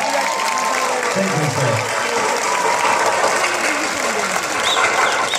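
Audience applause for a singer from Romania at a hotel entertainment show, a dense steady wash of many hands clapping throughout, with a brief spoken thanks over it.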